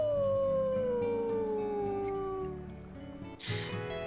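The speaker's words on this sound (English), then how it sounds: "We'll do our howl for the day as well." A wolf howl in the video game WolfQuest: a long, smooth, slowly falling tone that rings for a few seconds over a layered game soundscape, then fades, alone with no talk.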